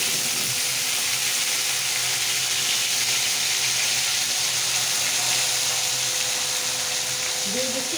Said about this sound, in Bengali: রসুনগুলো একটু ভেজে দিই।